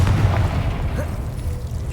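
A deep, rumbling boom from the Confringo blasting spell in Hogwarts Legacy, loud at the start and fading into a low, lingering rumble.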